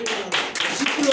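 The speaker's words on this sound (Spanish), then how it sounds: "Alguien déle un aplauso al Señor Jesucristo y a su nombre." Brief clapping from a church congregation praising Jesus Christ during a Spanish-language sermon, a short burst of claps mixed with voices, lasting just over a second.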